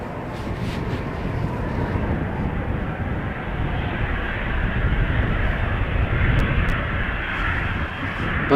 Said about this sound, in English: And there is a Royal Air Maroc flight to Casablanca also coming this way.